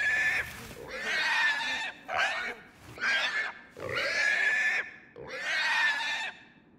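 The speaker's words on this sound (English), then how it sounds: "this pig squealing as I'm pulling him to the butcher shop" A pig squeals loudly and repeatedly while being dragged toward a butcher shop in the horror adventure game Hunger Apartment, giving five shrill, close bursts separated by brief pauses.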